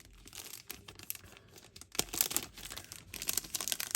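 Plastic packaging bag crinkling and tearing as an embellishment box bag is opened, with irregular close bursts of crackle that build louder toward the end.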